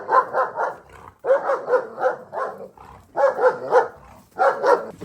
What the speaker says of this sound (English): Oh, dog.